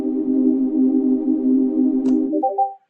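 A muted, low-pass-filtered synth pad holds a sustained chord with its high end rolled off, steady and dark, then a short brighter blip before it slides up and cuts off abruptly.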